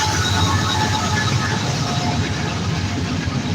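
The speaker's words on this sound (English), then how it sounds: "This train has got to be a mile long." A long freight train rolls past close by, a loud, continuous rumbling roar of wheels and cars that holds steady without a break.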